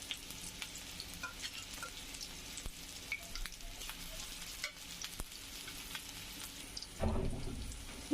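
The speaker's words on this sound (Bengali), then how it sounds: "পেঁয়াজ দিচ্ছি, কাঁচামরিচ দিচ্ছি," Chopped onions and green chillies fry in hot oil for a shrimp and okra dish. A quiet, continuous crackling sizzle runs throughout, with a brief louder stir or clatter near the end and no talking.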